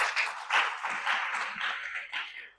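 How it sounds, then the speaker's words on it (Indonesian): A church congregation at a Sunday service claps together in a dense, continuous wash of applause that swells and dips in waves, moderately loud and filling the room, with no speech over it. "tepuk tangan bagi Allah kita"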